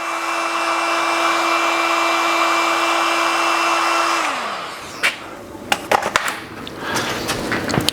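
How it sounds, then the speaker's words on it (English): A heat gun or hair dryer blows steadily and loudly to soften adhesive backing on a light bar for a 2012–2017 Honda Goldwing GL1800 trunk, cutting off at about four seconds, then sharp clicks and handling knocks follow. "give it a blast of a heat gun or a hair dryer"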